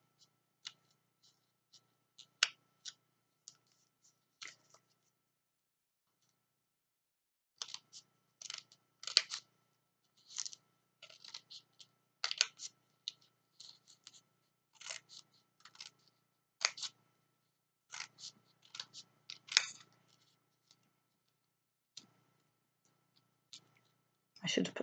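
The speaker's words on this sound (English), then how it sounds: "I've just got my scissors through a little bit of it, and then I'm going through a bit more." Sharp, scattered snips and crisp paper crunches come in irregular bursts, close up, with quiet gaps between them.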